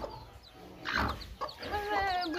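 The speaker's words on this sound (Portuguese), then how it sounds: "Podemos ver uma galinha meio estressada" A stressed hen clucks on a Goiás farm in a short burst of agitated calls, close and fairly loud, with rustling around it.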